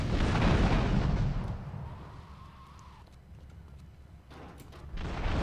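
Rocket explosions in Grand Theft Auto III, a loud rumbling blast that roars then decays into a lingering low rumble, with a second burst rising at the end; no talking.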